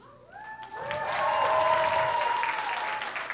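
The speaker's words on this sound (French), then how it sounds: "Continuez votre applaudissement." School talent-show audience applause swells and holds, a thick wash of clapping with a bright sustained tone ringing through it.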